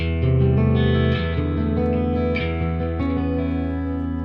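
Electric guitar using a piezo pickup for a clean, bright acoustic-like tone, strummed chords ringing steadily with light shimmer, played alone and close.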